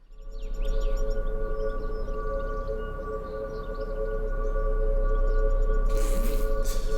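A civil defense tornado siren wails in a long steady tone with harmonic layers, loud and sustained, a faint rustle near the end.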